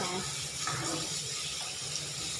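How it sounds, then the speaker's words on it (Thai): Olives are rinsed under running water, a steady, close hiss and splash of tap water that continues throughout with slight sloshing changes. "ล้างมะกอกสะอาด"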